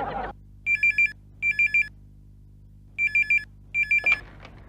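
Telephone ringing during a call to a gas agency, with four bursts of a trilling electronic ring separated by pauses, loud and close, followed by a brief clatter as the line picks up.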